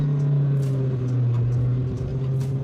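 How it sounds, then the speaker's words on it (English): Mahindra Scorpio-N in 4x4 Explorer mode driving fast on a gravel road, its steady engine drone and low road rumble continuous and close throughout, with faint crunches of gravel under the tyres. "let's see how this vehicle performs on a gravel road"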